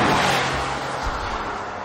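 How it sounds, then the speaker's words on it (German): Engine noise from a 2016 smart Brabus fortwo under full-throttle acceleration, a loud steady roar that holds across the stretch without any speech. "Fuß auf die Bremse, Vollgas und los."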